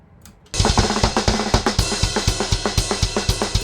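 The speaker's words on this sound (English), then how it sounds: "The cool snare roll here" A snare drum roll in a raw black metal recording bursts in after a brief quiet start, rapid regular hits driving steadily under dense distorted guitars, loud and continuous.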